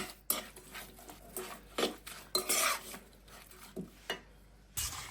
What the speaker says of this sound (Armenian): Դնում ենք պլիտայի վրա և անընդհատ խառնելով պետք է եփենք